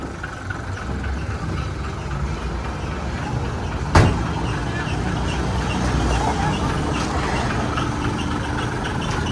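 A Nonthaburi airport-line bus rumbles steadily nearby as it moves forward, reverses and brakes, its engine drone broken by one sharp hissing release partway through.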